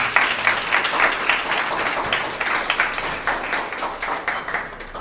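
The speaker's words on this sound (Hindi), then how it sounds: "मैं चाहता हूं कि आप सभी लोग एक बार जोरदार तालियों से उनका स्वागत करें।" An audience at a sports award ceremony claps loudly in welcome, a steady, fairly close round of applause with slight pulsing that eases toward the end.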